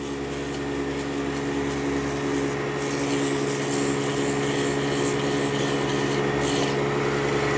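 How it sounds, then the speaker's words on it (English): Sandpaper of 120 grit rubs against a spinning woodturning piece on a lathe, giving a continuous, close hiss and rasp over a steady motor hum. "Then I'll take 120 sandpaper just to smooth them out a little bit more."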